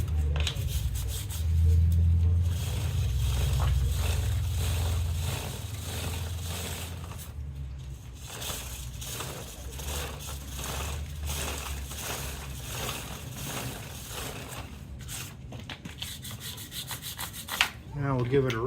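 A bicycle chain is scrubbed with a brush while the tire spins, producing a steady, close rubbing and scraping with rhythmic strokes and faint mechanical ticking, loud at first and then slightly softer.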